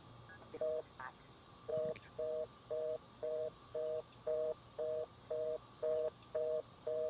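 A repeating telephone ringing tone from the video game Unheard, a steady series of evenly spaced double-pitched electronic beeps, about a dozen in a row, moderately loud with no talk over it.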